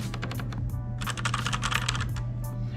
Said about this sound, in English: I know these are reds. They're not made to be as clicky as blue switches